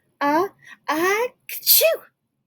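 A voice imitates a bear's sneeze, a drawn-out two-part "ah-choo" built from a rising intake and a sharp burst, loud and close in a storytelling setting.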